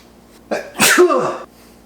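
A single sharp human sneeze erupts up close, a quick inhale building into a loud burst that fades after about a second, with a quiet room before and after.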